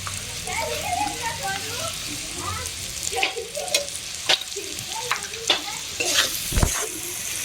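Jaggery is stirred into chilli and turmeric spices frying over low heat for an amla pickle, a bubbling sizzle with scattered pops and repeated scraping strokes of a spoon against the pan, close and fairly loud.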